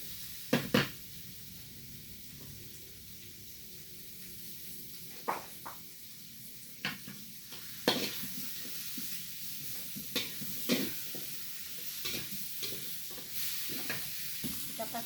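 Shredded cabbage stirred in a sizzling frying pan, a faint steady hiss broken by sharp scraping and clacking of a utensil against the pan at irregular intervals.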